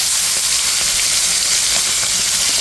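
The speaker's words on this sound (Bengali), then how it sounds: "এখন কই মাছগুলো দিয়ে খুব সুন্দর করে ভেজে নেব।" Koi fish fry in hot oil with a loud, steady sizzle and bubbling hiss that fills the whole stretch without letup.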